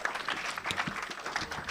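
Conference audience clapping for moderator Betty Sharon, a brief patter of applause of moderate loudness with a voice faintly underneath.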